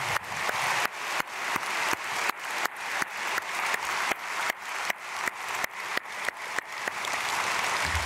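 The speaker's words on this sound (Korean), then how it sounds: "박수로 축복하겠습니다" A church congregation applauds at an early-morning prayer service, a steady wash of many hands clapping with brief regular dips in level.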